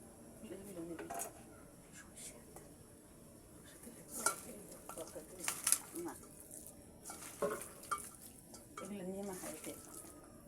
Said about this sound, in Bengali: রসুন সরিষা এবং পেঁয়াজ বাটা দিয়ে আমি এখন সুন্দর করে মেখে নেব